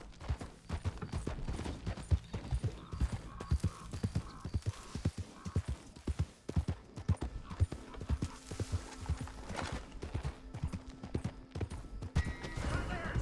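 Horse hooves clip-clop steadily in Red Dead Redemption 2, a close, rhythmic run of hoofbeats that continues through the whole stretch, with occasional whinnies, faint mechanical noise and brief voices breaking in.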